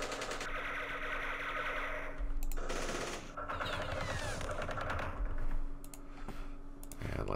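Bursts of small-arms and machine-gun fire crackle through a Campaign Series Vietnam battle, dense volleys layered over mouse and keyboard clicks, with no talking.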